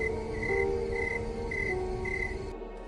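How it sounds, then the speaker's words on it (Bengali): Crickets chirp at night beside a road through dense jungle, a steady pulsing trill repeating in even bursts, faint and alone with no talk. "ঝিঁঝি পোকার ডাক যেন কান ফাটানো আর্তনাদ।"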